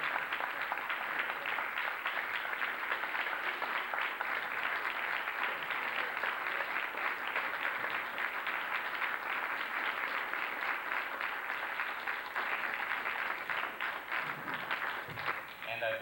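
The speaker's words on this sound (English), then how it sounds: "we would like to give these two gentlemen a wonderful round of applause" Sustained applause from a conference audience, steady and dense for the whole stretch with no gaps, tapering slightly at the very end.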